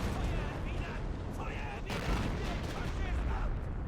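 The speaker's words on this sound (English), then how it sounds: "looks like we're already opening fire on some stuff here" Dense gunfire and explosions from a World War II battle in Men of War: Assault Squad, a continuous busy din of shots and booms, with a voice talking over it.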